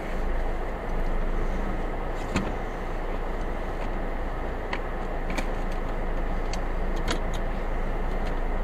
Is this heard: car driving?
yes